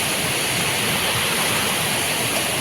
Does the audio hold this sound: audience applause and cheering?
no